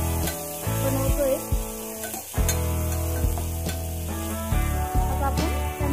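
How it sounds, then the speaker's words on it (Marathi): Tomatoes and onion fry in a pan for a rustic home-style khichdi, a steady close sizzle running throughout, broken by a few sharp knocks and stirring clatters, with faint musical tones underneath. "आता आपण टोमॅटो जरा चांगला फ्राय करून घेऊया।"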